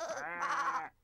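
A cartoon sheep gives a single short, wavering bleat, bright and close, breaking into a higher quavering second part before stopping abruptly.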